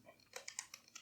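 A handful of quick, soft keystrokes tapped out on a computer keyboard while entering a MongoDB query, spaced irregularly within a second and heard faintly in a quiet room with no talking.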